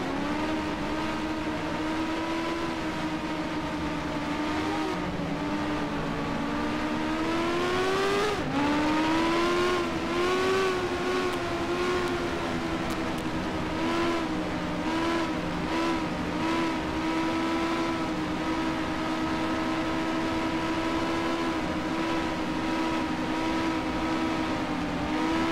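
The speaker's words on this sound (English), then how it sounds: "Got that phasering effect from all the engine sounds matching." Race car engines roar in NASCAR Racing 2003 during an Indy 500 race, a steady dense drone of many matched engines with a phasing shimmer, rising in pitch at an upshift and holding loud and continuous.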